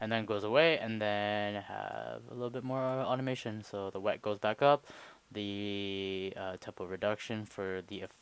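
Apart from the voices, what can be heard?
No distinct noise like a dog, phone or traffic.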